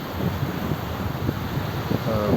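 Strong, steady wind roars in a broad rush along a rough seashore where fishing boats are anchored beside a shipyard at sunset. No voices are heard over it.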